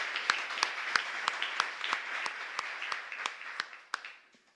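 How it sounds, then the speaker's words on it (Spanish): A church congregation applauding at the close of a Mass in Santa Elena parish, Asunción: steady, dense clapping from a sizeable crowd with sharp individual claps standing out, slowly fading away at the end. "fuerte aplauso a todos ustedes."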